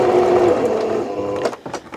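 A sewing machine runs steadily, stitching a fabric project bag, with a continuous motor hum that breaks into a few short bursts near the end.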